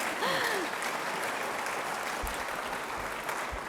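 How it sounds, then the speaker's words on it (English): Crowd applause at a university donation event, a sustained wash of clapping from a large audience, with a brief whistle-like vocal sweep near the start. "Let's just give another round of applause to Doterra"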